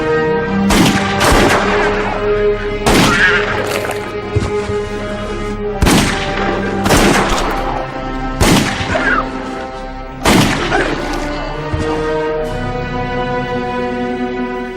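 Gunfire from a Christmas movie in which a cowboy shoots elves: loud, booming shots with ringing echoes, coming one at a time every second or two, over a steady film soundtrack bed.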